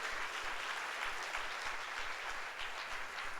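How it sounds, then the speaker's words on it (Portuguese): Church congregation at a Sunday service applauding: a continuous wash of clapping, moderately distant and fairly quiet, without talking. "dê um forte aplauso ao Senhor Jesus"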